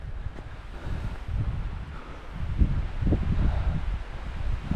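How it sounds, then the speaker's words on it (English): Steady wind gusts roar and rustle through trees on Conic Hill, a continuous breathy rush with low buffeting, no voices. "You can tell by the sound, by the moving trees, how windy it is at the moment."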